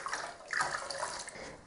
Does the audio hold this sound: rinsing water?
yes